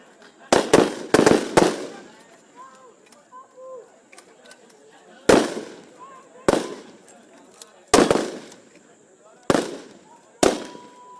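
Loud, sharp gunshots crack out during a military exercise in clusters, several rapid shots followed by spaced single bangs, with faint voices in the background.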